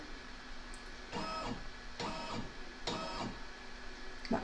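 An embroidery machine stitches a Valentine's coaster in quiet repeated whirring bursts about once a second, with short pauses between them and a faint mechanical hum underneath.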